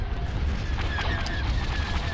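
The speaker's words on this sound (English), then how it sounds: "Looks like their laser cannons are actually killing some of those TIE fighters." Laser cannon fire and explosions in the space battle game Star Wars Empire at War: Thrawn's Revenge, a dense, continuous barrage of booms and zapping shots with occasional sharper high blasts, steady and loud throughout.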